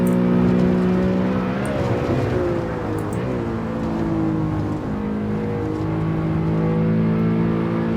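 BMW M3 E92 engine in Assetto Corsa revving steadily, a loud sustained drone that dips briefly around a gear change, then climbs again.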